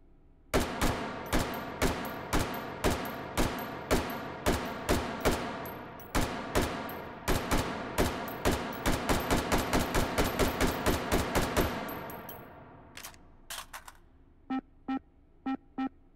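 Semi-automatic gunfire at a sniper range in the HTC Vive VR game Hot Dogs, Horseshoes & Hand Grenades: about two dozen loud, sharp shots in a steady rapid rhythm, then a pause and a few sparser shots, with no talking.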